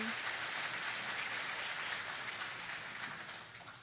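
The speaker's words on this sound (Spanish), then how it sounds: "Un aplauso para el capitán navío Fred Turner." A crowd applauds with dense, sustained clapping that fades slightly toward the end.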